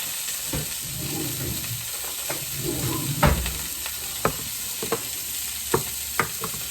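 Steady sizzling of bistro steaks frying in a hot pan, a continuous hiss broken by occasional sharp clicks and taps of utensils.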